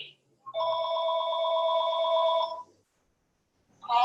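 A telephone bell rings in one sustained two-second burst, loud and close, followed by silence before a second ring begins.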